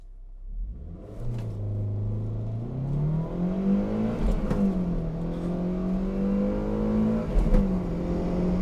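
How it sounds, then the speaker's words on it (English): A 2002 Toyota MR2 Spyder mid-engine car revs up hard, its pitch climbing, dropping briefly at each gear shift, then climbing again in a loud, sustained acceleration. "That is fun to just rip through the gears."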